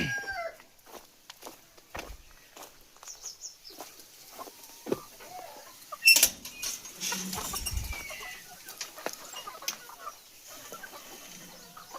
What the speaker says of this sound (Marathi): ह्या कोंबड्या हे बघा.